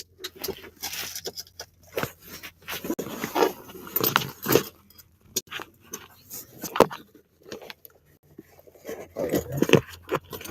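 Keys jangle and rattle in irregular bursts, close and fairly loud, mixed with rummaging and handling noises while someone searches for them.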